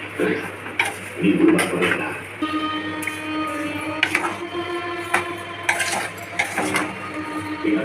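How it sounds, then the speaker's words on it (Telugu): A spoon scrapes and clanks against a pan as sugar is stirred into carrot halwa after the milk reduces, with irregular metallic knocks and a faint sizzle while a person talks. "పాలు ఇంకిపోయిన తర్వాత మనం ఈ చీనీ తీసుకొని వేసుకోవాలి. ఓకేనా? దీన్ని కలుపుకోవాలి."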